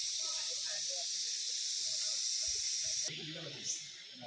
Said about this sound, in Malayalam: ഇതാ ഈ മരത്തുമെന്ന് നല്ല ചീവീടുകളുടെ ഒരുപാട് ശബ്ദം കേൾക്കാനുണ്ട്.